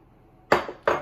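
Seasonings being mixed into breadcrumbs in a bowl for tofu nuggets, heard as two sharp clinks of a utensil against the bowl about a third of a second apart after a quiet start.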